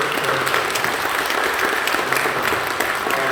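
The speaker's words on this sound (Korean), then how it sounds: "우리 환영하는 박수 크게 해주시고" Korean church congregation giving loud welcoming applause for a newcomer, dense continuous clapping from many hands filling the room, with little talk over it.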